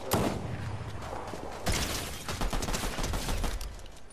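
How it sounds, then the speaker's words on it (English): Rapid bursts of video game gunfire crackle in quick succession for several seconds, with a sharp shot near the start and a dense volley in the second half, fairly loud and up close. "this person's shooting at you"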